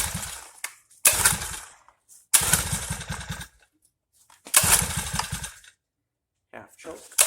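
A Bikeberry 49cc four-stroke motorized bicycle engine sputters to life outdoors in the rain, with three loud, close bursts of rough, pulsing engine noise separated by short quiet gaps.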